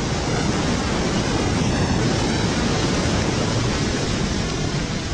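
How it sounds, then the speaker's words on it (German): Water and sand hurled upward by an underwater explosion roar as a dense, continuous wash of broadband noise, loud and steady throughout with no voices. "Nach der Explosion dauert es Sekunden, bis der gewaltige Druck sich Platz verschafft und Wasser und Sand in Fontänen in die Luft schleudert."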